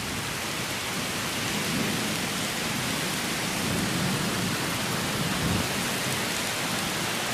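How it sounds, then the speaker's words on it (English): Thunderstorm with steady heavy rain roaring close by and low rumbles of thunder swelling faintly beneath it, continuous with no talk. "This concludes Ethan's and my thunderstorm video episode"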